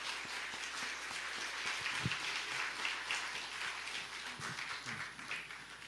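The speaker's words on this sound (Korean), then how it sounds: "우리 박수로 하나님께 영광 돌리겠습니다" Soft, distant applause from a Korean church congregation at a 50th anniversary service, a steady dense patter of many hands held at a low level for the whole stretch.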